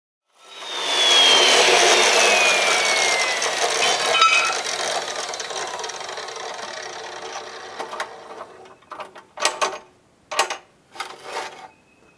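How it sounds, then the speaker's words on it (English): A power saw blade cutting through metal plate for a shooting target makes a loud, sustained whining grind for several seconds, then winds down into a few short separate bursts of cutting, close up and without talk. "Now this blade won't cut all the way through, but I'll just have to flip it around, get the other side"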